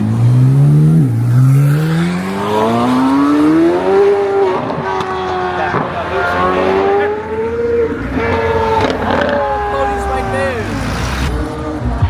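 Cars, including Chevrolet Camaro ZL1s, rev loudly at a wild Miami street car meet, engines climbing and sliding in pitch as they drift, with crowd voices and shouting mixed in throughout.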